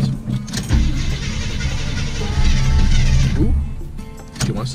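A car engine cranks and struggles to start after the gas is pumped, a loud continuous mechanical churning with broadband rattle that runs for a few seconds, then cuts out, with a brief voice near the end.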